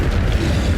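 A Bombarda blasting spell from Hogwarts Legacy goes off as a loud, dense low boom that holds steady and rumbles for just under a second, with no voices over it.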